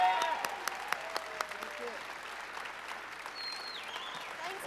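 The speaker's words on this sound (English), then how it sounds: "Let's give them a big round of applause." An audience at a Phoenix Comicon convention panel applauds, with a few sharp claps up front and then a thin, distant patter mixed with scattered voices and whoops.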